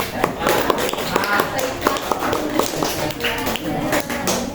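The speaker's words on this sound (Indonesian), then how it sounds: "Oke, tepuk tangan dulu untuk yang satu itu" A small class group in an Islamic studies lesson claps hands in scattered, uneven bursts, sharp close taps mixed with background chatter and voices.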